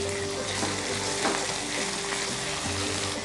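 Ginger garlic paste sizzles steadily with onions in a pan for a Telugu home-cooked prawn dish, a loud continuous frying hiss close to the microphone with a faint stirring scrape and no talking.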